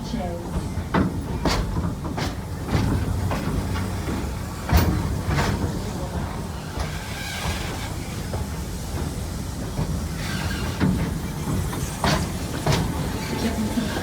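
A zoo tour train rolls steadily along with a continuous rumbling ride noise and scattered clicks and clacks, and a voice talks over it throughout.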